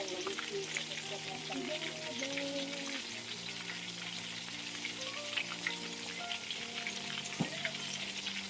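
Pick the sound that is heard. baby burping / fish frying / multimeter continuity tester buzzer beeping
fish frying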